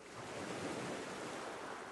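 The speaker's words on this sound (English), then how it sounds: "the outro of this album is just 2 minutes of waves" Ocean waves washing in a continuous broadband surf roar, steady and fairly soft, with no voices.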